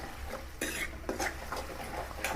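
Chili and spice powders fry in oil on low heat while a spoon scrapes and taps a metal pan, with short clinks and rasping strokes over a faint sizzle, close up and without talk.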